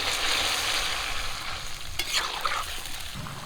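Fish curry sizzling and bubbling loudly in hot oil with fried potatoes and spices as gravy water is poured into the pan, a steady close hiss with a brief splash and stirring clatter.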